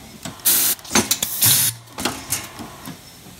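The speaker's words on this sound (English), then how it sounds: "Alright, let's crank the speed." Bottle cap dispenser running at higher speed, producing a quick irregular series of close mechanical clatters and sharp hissy bursts with short gaps between them.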